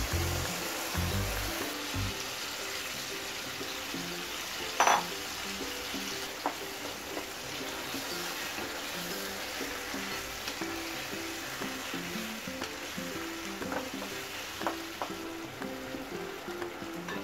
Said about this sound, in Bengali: চিকেন কিমাটা এর মধ্যে দিয়ে দেব।